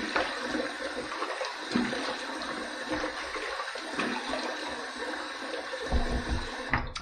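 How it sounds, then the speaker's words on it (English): Water runs steadily from a tap for several seconds while a razor is rinsed during a wet shave, a continuous close hiss with a few brief splashes near the end. "Okay, let's rinse."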